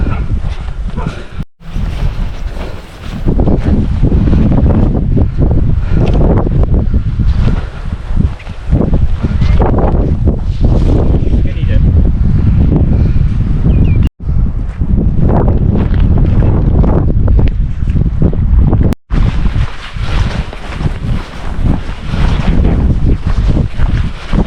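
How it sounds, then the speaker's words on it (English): Loud, sustained wind on the Norfolk coast among beach huts and sand dunes at the end of the Peddars Way, a heavy continuous roar buffeting the microphone with brief dropouts, a voice partly buried beneath it. "Hopefully the wind's not causing too much of a problem"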